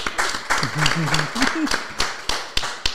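A few people clap unevenly in short bursts in a small, casual setting, with voices and laughter mixed in over the claps.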